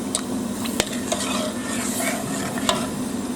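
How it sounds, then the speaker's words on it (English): Melted butter sauce for a fish pie bubbles and sizzles steadily in a pan as it is stirred, with a few light clicks of the utensil against the pan and no talking. "I'm just going to give that a mix."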